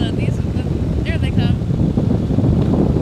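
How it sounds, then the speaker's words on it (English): Steady low aircraft engine drone with wind buffeting the microphone, close and continuous, as a voice speaks briefly over it, on a powered hang glider in Hawaii. "They might not like our engine noise"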